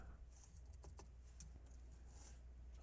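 A computer keyboard clicks in a short, irregular burst of keystrokes, faint and close against a low steady hum, with no voice.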